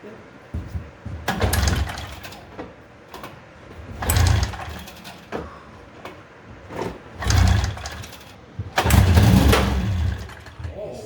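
A 1997 Ski-Doo Mach Z 800 Rotax snowmobile that sat unused for ten years being cranked over, heard as several loud, rough bursts of engine turning spaced a few seconds apart, with voices nearby.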